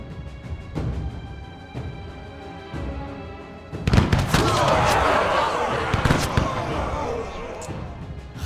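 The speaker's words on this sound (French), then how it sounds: "tous ces canons qui vident tout le monde" Heavy booming cannon blasts from a We. The Revolution game battle, a few sharp thumps followed by a dense roar of overlapping explosions, with some talk mixed in.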